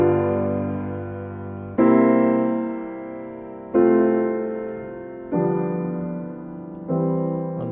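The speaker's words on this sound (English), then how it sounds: "So the chords at the end of this piece sound like this." Closing chords of Bach's Prelude in C from Book 1, played on a keyboard as five sustained chords, each struck cleanly and left to ring and fade before the next, with no voices.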